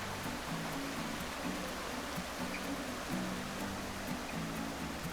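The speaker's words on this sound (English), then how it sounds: "the sound of the running water is just so calming" Steady running water of a creek on the Bridal Falls loop trail, a continuous close rushing wash with faint low tonal hum beneath, no one speaking.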